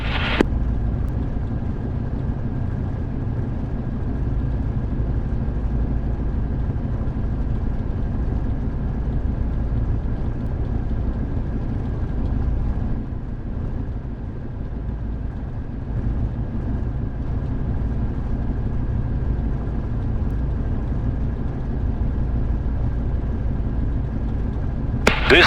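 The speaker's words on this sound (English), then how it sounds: "Today we will practice taxiing and taking off in the Yak-52." A Yak-52 aircraft taxiing in the DCS flight simulator, its engine holding a steady, loud low drone with a constant hum and little change throughout, with no voices.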